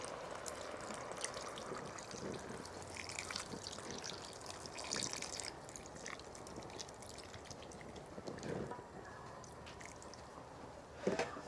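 A 15-ounce can of beef broth pours into a pot of smoked brisket chili with soft, steady liquid splashing and trickling throughout, faint and close, with a few drips and a sharper clunk at the end.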